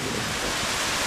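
Steady, dense rain pouring down without a break, a loud continuous hiss filling the whole moment with no voices.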